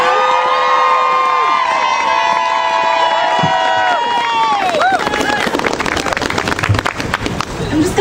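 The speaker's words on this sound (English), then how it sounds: "I think we need to give another round of applause for all of our amazing speakers today." At a Roe v. Wade anniversary rally in Richmond, Virginia, the crowd breaks into loud cheering, whoops and applause for the speakers, with a sustained high vocal whoop at first giving way to dense clapping and shouts.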